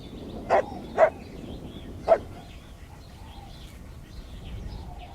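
A dog in The Last of Us Part II gives three short, sharp barks spaced over two seconds, then only faint background ambience follows.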